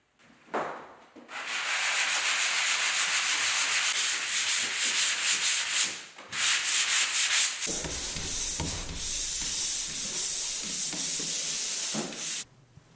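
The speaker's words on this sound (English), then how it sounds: "Did I mention that sanding sucks?" Continuous abrasive rubbing of a sanding block across drywall joint compound, steady scratchy hiss in long strokes with a brief pause midway.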